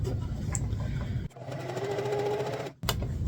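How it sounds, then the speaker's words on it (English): A sewing machine stitches into the fold of a LARP shield cover, running in a steady close whir, pausing briefly near the middle before resuming, then stopping again near the end. "We're going to sew into the fold"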